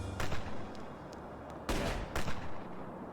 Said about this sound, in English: There's constant gunfire coming from beyond the palace gate. The soldiers must be doing rifle drills.